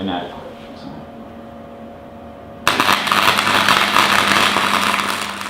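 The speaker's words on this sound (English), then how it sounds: "as I weld it in place now, I know it's going to fit" Steel rear bar for an off-road vehicle being welded into place, a sudden loud broadband crackle and hiss starting midway and continuing steadily, close up, with a brief voice just before it begins.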